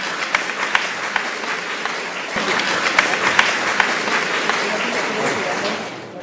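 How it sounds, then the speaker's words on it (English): Sustained audience applause for event organizers at an Islamic History Month Canada gathering, many hands clapping steadily for several seconds before tapering off. "A big round of applause for them."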